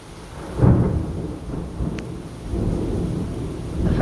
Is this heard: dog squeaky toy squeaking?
no